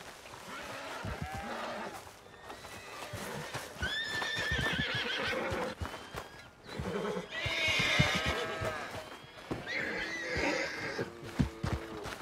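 A horse in the video game Red Dead Redemption 2 whinnies and neighs loudly several times over about twelve seconds, with hooves clip-clopping beneath and no talking.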